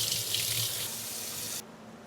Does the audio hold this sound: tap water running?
yes